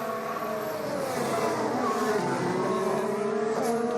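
Formula 1 cars at the 2015 Australian Grand Prix, including a Red Bull Renault, scream past with a high, continuous engine whine whose pitch sweeps and shifts as they race by, loud and close with no talk.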